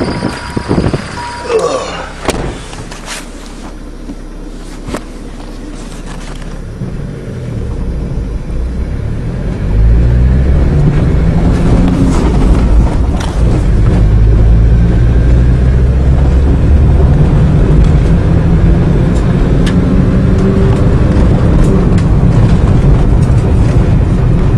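A diesel caravan engine clatters into life after some handling noises, then settles into a loud, steady running rumble that rises and shifts in pitch as it revs and gets under way.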